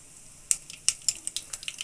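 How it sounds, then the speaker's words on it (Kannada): Mustard seeds splutter in hot oil in a pan while tempering shavige upma, giving a quick run of sharp, close crackling pops over a faint sizzle. "ನೋಡಿ ಸಾಸಿವೆ ಸಿಡಿತಿದ್ದಂಗೆ"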